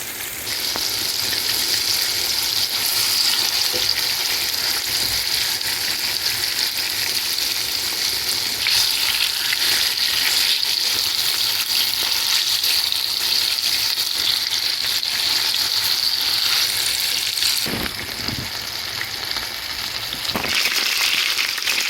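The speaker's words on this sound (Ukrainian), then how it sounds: "І обсмажуємо стегна на добре розігрітій пательні з рослинної олії до золотистості." Chicken thighs fry in vegetable oil in a well-heated pan, a loud, steady, close sizzle that hisses continuously, with a brief clatter of stirring or turning near the end.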